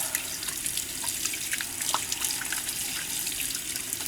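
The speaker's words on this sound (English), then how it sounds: "And then you rinse this out a little bit." Water runs steadily from a tap into a sink as hands are rinsed beneath the stream, a close, continuous splashing rush with small drips and spatters that holds without a break from start to finish.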